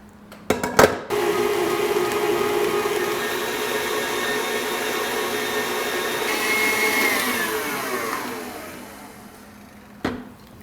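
Electric mixer whirring steadily at medium-high speed while beating cream cheese and butter for red velvet cupcake frosting, a loud continuous motor drone after a few clicks, fading near the end with a brief knock.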